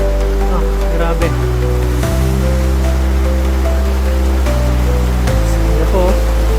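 Floodwater rushing over a submerged bridge, a loud continuous roar of water with steady low hum and occasional splashes and knocks, no talking heard.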